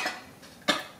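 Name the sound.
cough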